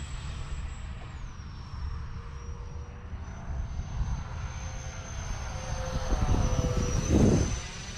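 A radio-controlled Su-27 model jet climbs out from a runway, its steady high-pitched whine mixed with a lower engine roar that swells louder near the end as it passes closer.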